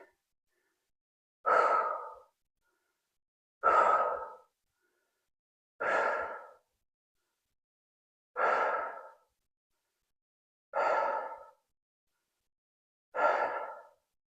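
Six heavy, forceful exhalations come from a person recovering between sets of an upper body workout. Each breath is a separate burst at a steady pace about two seconds apart, close and loud, with silence in between.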